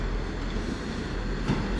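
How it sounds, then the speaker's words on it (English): A South Western Railway train from London Waterloo arrives and terminates at Exeter St David's, a loud steady rumble of rolling stock and wheels on rail with a brief clank near the end, no voices. "We have the South Western Railway service from London Waterloo coming in, terminating here."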